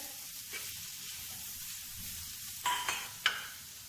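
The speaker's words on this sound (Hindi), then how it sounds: "इसको स्टर फ्राई कर लिया है।" Keema and masala stir-fried in oil make a soft, low sizzle, then a few sharp scraping stirs of a spatula near the end, close and without talk.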